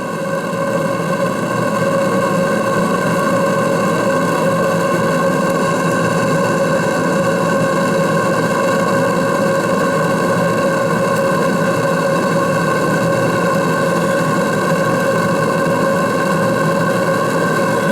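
A restored FBI 2 boiler-driven machine runs at 1 degree, giving a steady, loud mechanical drone with a constant tonal hum and no pauses, heard alone without talk.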